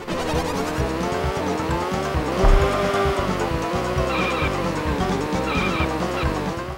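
A race car in Stunt Race FX on the Super Nintendo, its loud buzzing retro engine revving steadily while the tires squeal through corners, with no talk over it.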